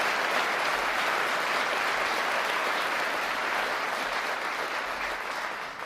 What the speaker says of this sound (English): I hope all of us will give a big round of applause